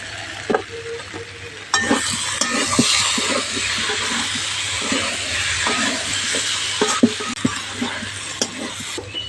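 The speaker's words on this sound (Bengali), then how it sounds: "এঁচড় আর আলু দিয়েও ভালো করে মশলার সঙ্গে কষিয়ে নেব" Green jackfruit and potato being stir-fried with spices in a pan, a steady bright sizzle with scattered scraping and stirring clicks, close and continuous throughout with no talking.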